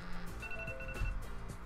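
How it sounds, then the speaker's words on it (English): A timer alarm goes off in a room, with short ringing electronic tones repeating close by over faint background noise, and no one talks. "That was a timer."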